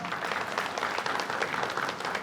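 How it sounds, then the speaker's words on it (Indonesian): Steady applause from a church congregation during a Sunday service, dense and continuous clapping filling the room for the whole stretch with no voices over it. "dan ya, tepuk tangan."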